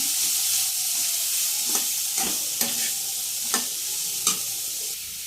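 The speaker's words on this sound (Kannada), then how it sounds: "ಸ್ವಲ್ಪ ಪೆಪ್ಪರ್, ಖಾರದ ಪುಡಿ ಮಿಕ್ಸ್ ಮಾಡ್ಕೊಳ್ಳೋಣ." Pepper and chili powder stirred into egg roll mix frying in a pan: a steady sizzle and hiss with about five distinct scraping strokes of the spatula, close and moderately loud.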